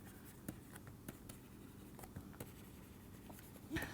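Chalk or marker strokes on a board during a mathematics lecture on pure cubic fields, soft scattered taps and scratches in an irregular rhythm, faint in a quiet room with no talking.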